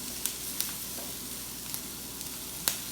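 Steak frying in a pan gives a steady, close sizzle with a few sharp pops and crackles breaking through, and no one speaks.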